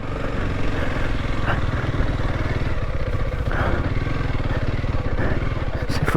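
A motorcycle putters along a greasy, slippery dirt trail in first gear, a close, steady low engine thrum with a rapid pulsing beat running throughout.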